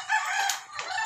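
A rooster crows close by, a long strained call that fills the moment, with a second rising crow starting near the end.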